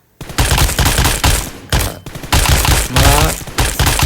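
Rapid bursts of gunfire from a shooting video game, loud and close, with dense automatic volleys separated by brief pauses and no voices.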